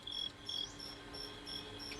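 Fighting crickets chirp in short, bright bursts repeating at a steady rhythm, fairly faint and close, over a low hum of background noise, with no voices.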